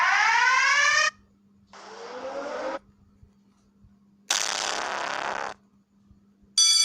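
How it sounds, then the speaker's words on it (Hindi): A school dismissal alarm played from a horn sound app rings in loud electronic bursts, a falling warbling tone, then a buzzing blare, a long harsh blast and the start of another, broken by short silences. "छुट्टी का अलार्म हुआ,"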